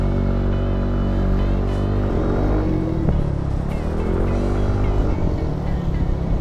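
Motorbike riding along a highway near Baguio, a steady close engine drone with road and wind rush throughout, with no clear voices over it.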